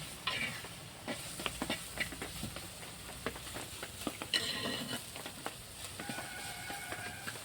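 Chopped banana flower (mocha) fries in a clay pot while being stirred, a soft continuous sizzle broken by many quick scraping clicks of the spoon, close but faint, with no speech.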